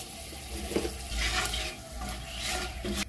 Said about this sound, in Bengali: তেলটা খুব ভালো গরম হয়ে গেছে, দিয়ে দেবো একটা শুকনো লঙ্কা ও দুটো তেজপাতা